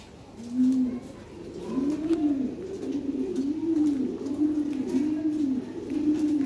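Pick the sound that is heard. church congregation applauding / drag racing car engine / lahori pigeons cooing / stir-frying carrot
lahori pigeons cooing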